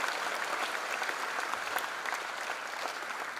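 Steady audience applause at a college freshers' induction program welcoming a vice president, a dense even wash of many hands clapping throughout, moderately distant and without any break.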